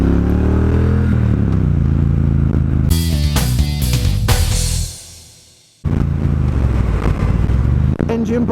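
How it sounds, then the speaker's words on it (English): A Triumph Bonneville Bobber motorcycle with its Bonneville twin engine runs loud and steady while being ridden, rising through revs with a brief drop as the throttle closes for engine braking, then picking back up. "It's a tried and tested Bonneville engine"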